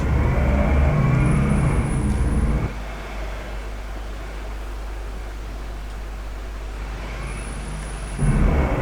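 Road traffic stuck in a big jam at a ferry ghat gives a steady, loud broadband roar of idling engines. It drops partway through and swells again near the end, with a faint high tone twice.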